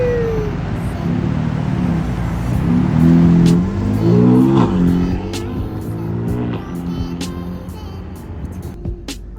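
A BMW F80 M3 engine, just started after stalling, revs up in a loud, close burst, holds a high droning pitch, then settles back to a lower idle, with brief faint voices near the end.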